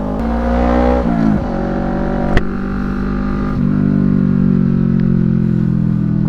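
Motorcycle engine running at night while the bike is moved to a new parking spot, a close steady rumble with a brief rise in revs and a few clanks.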